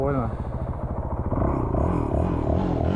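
An enduro motorcycle pulls out through sand at low revs during an enduro competition, its engine chugging with a rough low rhythm and clattering close by, with talk over it.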